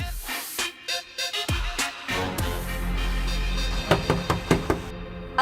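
Knocking on a door in an Indian drama scene: several sharp knock bursts in separate groups, fairly loud and close, with a sustained low hum behind and no talk.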